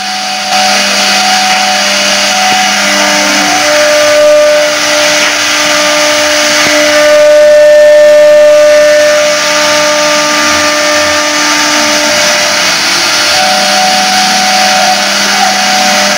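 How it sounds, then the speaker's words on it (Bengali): A CNC machine carves designs into mahogany wood with a loud, continuous whine whose pitch steps and shifts over a steady mechanical drone, heard alone. "আপনারা দেখতে পাচ্ছেন সিএনসি মেশিন দ্বারা কিভাবে কাঠের ডিজাইনগুলো করা হচ্ছে।"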